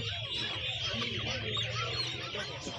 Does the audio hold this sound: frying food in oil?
no